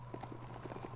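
Hooves of a horse-like mount creature in the video game Biomutant, clopping in a quick, even gait over about a second, soft and fairly faint.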